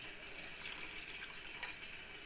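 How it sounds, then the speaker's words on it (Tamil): Water poured into a thick tamarind-free kuzhambu curry while it cooks, a faint, steady splashing stream with no talk over it. "அதனால் கொஞ்சம் தண்ணி ஊற்றிக்கிறோங்க."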